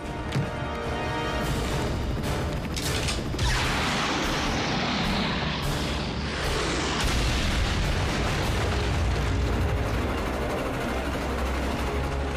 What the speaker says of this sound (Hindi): मैक ने ट्रेन ट्रैक्स उड़ा दिए।